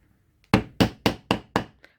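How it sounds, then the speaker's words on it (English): Five sharp, evenly spaced hammer blows set a metal eyelet into leather, each strike loud and close with a quick decay, followed by a faint lighter tap. "Place the eyelet, place the project and hammer."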